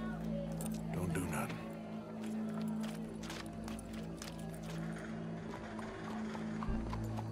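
Horse hooves clip-clop in a steady, fairly close rhythm while people talk over them, with a low hum running underneath throughout.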